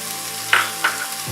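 Garlic and onion sizzling in hot oil: a steady frying hiss with two brief, louder spatters partway through. No talking.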